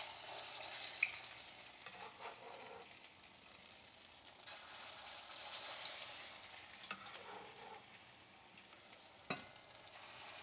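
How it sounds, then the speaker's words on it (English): Salmon croquette patties fry in hot oil with a soft, steady sizzle and crackle at low volume, broken by a few light clinks and stirring sounds. "now I'm frying up the last batch"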